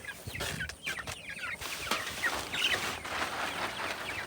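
Several chickens cluck and chatter nearby in quick, overlapping bursts, with scratching and rustling of a busy flock and no human voices.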